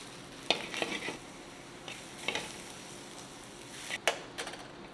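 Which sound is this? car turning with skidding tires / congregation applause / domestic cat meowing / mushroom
mushroom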